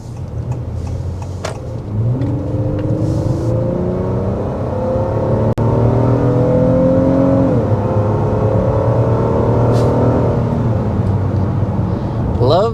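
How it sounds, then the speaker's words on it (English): A 2025 Honda Pilot Black Edition's V6 heard from inside the cabin as it accelerates through gears toward highway speed, a rising engine whine that steps up twice before settling into a steady cruising hum over road rumble. "Love the sound that this V6 makes."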